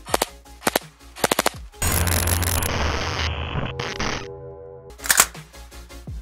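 A Cyma CM079 airsoft assault rifle fires full-auto at about 15.9 BBs per second, a long loud buzzing burst of rapid mechanical clatter, with a few sharp single clicks before it and after it.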